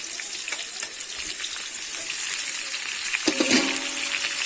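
Beans, yardlong beans and capsicum frying in a pan with already-fried pumpkin, potato and carrot, a steady close sizzle with brief stirring clatter near the end.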